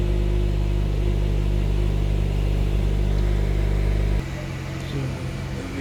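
A 2010 Honda CR-V with a lean fuel trim fault idling nearby, a steady low engine drone with a constant hum that drops in level and shifts slightly near the end.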